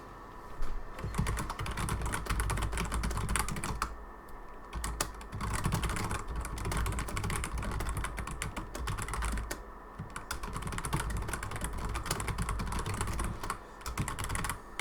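Rapid continuous typing on a computer keyboard during a gaming livestream, a dense close clatter of keystrokes that runs nearly the whole time with only brief pauses.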